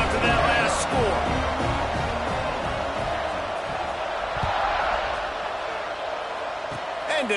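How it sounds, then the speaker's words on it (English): A stadium crowd at a Georgia vs Michigan college football game buzzes after a score, a steady broad roar with scattered shouts running throughout beneath a commentator's voice. "this crowd is buzzing after that last score"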